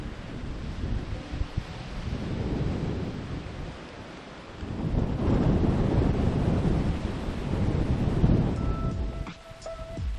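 Wind on a golf course buffets the microphone in rough, rumbling gusts that swell and fade, loud and close, with no voices.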